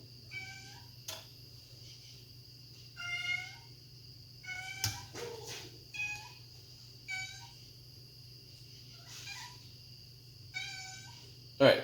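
A cat meows repeatedly in a garage workshop during brake master cylinder bench bleeding, about half a dozen clear, drawn-out calls spaced a couple of seconds apart over a steady low hum, with a few sharp clicks.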